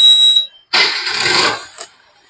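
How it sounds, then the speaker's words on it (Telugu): A 2016 TVS Jupiter scooter self-starting at a single touch: a thin electronic whine, a brief pause, then about a second of close, loud cranking as the engine catches, followed by a short blip. "సింగిల్ టచ్ లోనే సెల్ఫ్ స్టార్ట్ అయిపోయింది బండి"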